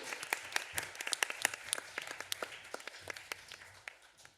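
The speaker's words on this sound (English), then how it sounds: "let's give a warm applause to the speakers" A conference audience applauding the speakers with a smattering of distinct individual claps, fairly sparse and quiet, thinning out toward the end.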